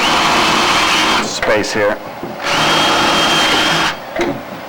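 An electric drill fitted with a number 21 bit bores into a molded wing, a loud steady whine in two long bursts, with a brief spoken remark between them.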